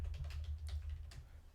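Quick, light clicks of typing on a computer keyboard, a short burst of several keystrokes close by over a low background hum.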